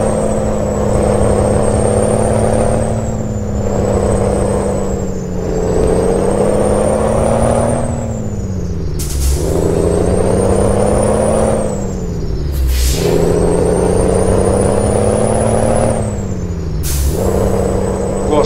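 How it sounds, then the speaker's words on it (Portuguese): A Mercedes Actros truck drives in a video game, its turbo whistle a loud, sustained high tone rising and falling with engine revs over a heavy diesel drone, broken by three sharp air-brake hisses. "Gostaram do apitinho da turbina ou não?"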